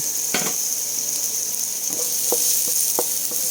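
Onions frying and being stirred in a pan for chicken pochero, a steady broad sizzle with a few sharp clinks of a utensil against the pan near the end.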